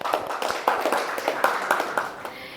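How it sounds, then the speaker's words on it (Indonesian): A classroom group gives a round of applause for the second presenting team, a burst of many hands clapping together at close range, steady for a couple of seconds before tapering off at the end. "Aplaus dulu untuk kelompok 2."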